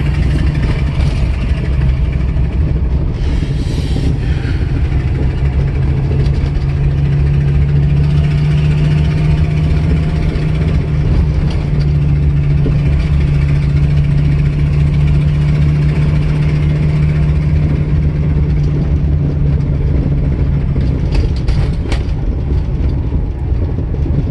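A manual-transmission car moving through second gear with the clutch pushed and a shift into third, making a loud, continuous mid-pitched engine drone that steadies and rises over a sustained hum, with no voice.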